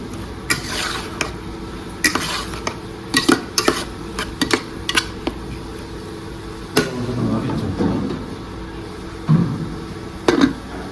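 Bone curry (ellu curry) being stirred in a pan in a Kerala kitchen: repeated scraping clinks of a spoon against metal with soft sizzling underneath, irregular bursts spread through the stretch, no talking.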